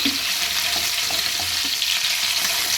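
Amudi fish fries in hot oil in a pan, giving a dense, continuous sizzle and crackle that holds steady and loud from start to end, with no voices.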